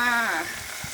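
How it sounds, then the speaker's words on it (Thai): Sliced pork with red curry paste and long beans sizzles in a hot pan, a steady close frying hiss that carries on through the whole moment, with no talk. "เคียจะผัดพริกแกงหมูถั่วฝักยาวค่ะ"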